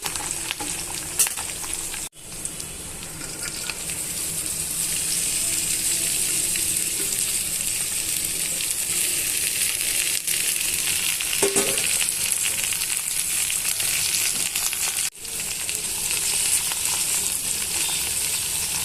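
Okra pieces frying in a pan with curry leaves, a loud, continuous, close sizzle lasting the whole stretch, with a couple of brief stirring knocks and no talking.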